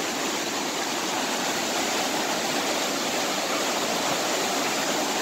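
A river at high flood stage rushes beneath a bridge, a loud, steady broadband roar of churning water that stays constant throughout with no talking.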